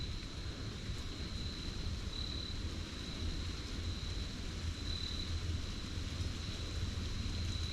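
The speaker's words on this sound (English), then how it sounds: "And the wind picked up again." Wind in the Shawnee National Forest rushes steadily through the trees at night, a soft continuous broadband hiss at low level that persists unbroken, with no voices.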